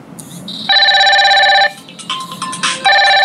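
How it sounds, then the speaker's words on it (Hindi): Incoming call ringtone from a Fire-Boltt Ninja Calling Pro Plus smartwatch: loud, close electronic tonal ringing in repeated bursts with a brief change of pattern midway before the tone resumes. "तो गाइस कुछ इस तरह से कॉल आता है"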